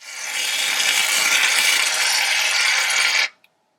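Shaving cream sprays from a pressurized can into a bowl for fluffy slime, a close, loud, steady hiss lasting about three seconds before cutting off sharply.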